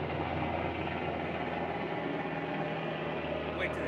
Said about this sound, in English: Wait till this helicopter.